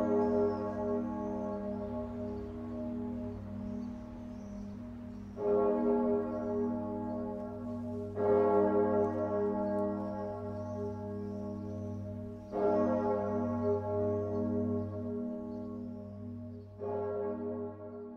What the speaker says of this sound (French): sa belle voix, un La bémol 2, au diapason 420 Hz pour les connaisseurs, tonne pour les plus grandes occasions